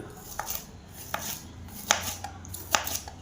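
A knife chops bitter gourd on a cutting board, four or five crisp, evenly spaced cuts close by in a quiet kitchen.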